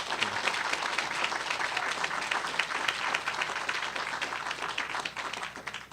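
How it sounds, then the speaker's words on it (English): Sustained applause from the crowd at an animal shelter press event, a full, even roar of many clapping hands that holds steady for several seconds before tapering off at the end. "Let's give them another round of applause for their work."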